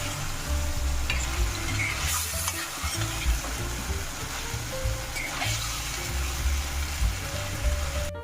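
Spiced potato curry bubbles and sizzles in a pan while a spoon stirs through it in steady, repeated scraping strokes, close and fairly quiet, with no talking.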